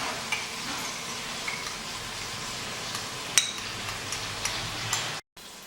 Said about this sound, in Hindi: जब तक हमारे प्याज गोल्डन ब्राउन हो रहे हैं